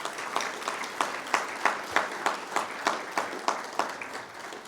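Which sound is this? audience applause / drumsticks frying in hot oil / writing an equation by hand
audience applause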